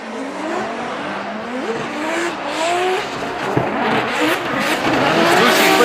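A BMW E92 drift car with a competing Lexus IS 500 at a drift competition at Sportsland Sugo: a loud, sustained engine wail with rising and falling revs, mixed with long tire squeal, steady and close throughout.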